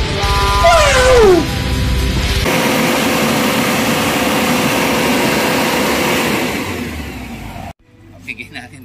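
An Isuzu 4JX1 diesel engine, after a solenoid replacement, is revved hard to about 4,000 RPM. It climbs and then holds a loud, sustained roar before dropping away, with voices heard near the end.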